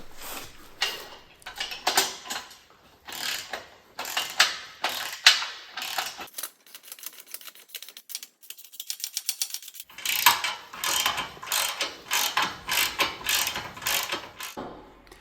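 Ratchet wrench tightening nuts and bolts while a motorbike rack for a Tesla Model Y is assembled: quick, close, repeated clicking bursts with short pauses, no talking.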